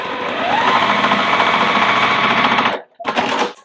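A sewing machine stitches a Daylight quilt block in a loud, steady, close whir. It stops abruptly, then starts again for a short burst.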